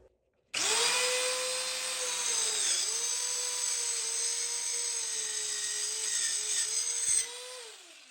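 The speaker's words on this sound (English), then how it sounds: "I'll have this plunge saw set so I can go ahead and cut out my notches" A plunge saw runs continuously for about seven seconds while cutting notches in a jig for topside battens on a boat build. The whine is loud, close and steady, dips slightly under load, then stops abruptly.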